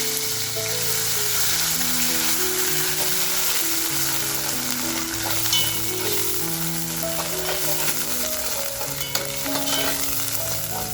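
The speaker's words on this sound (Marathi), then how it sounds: "आता बघा जो मसाला आपण वाटून घेतलाय तो मसाला टाकते तेलामध्ये" Homemade ground masala of onion and coconut fries in hot oil with a pinch of asafoetida over a low flame, a steady close sizzle with faint stirring scrapes throughout, no voices.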